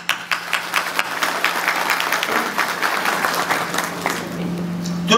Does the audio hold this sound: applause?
yes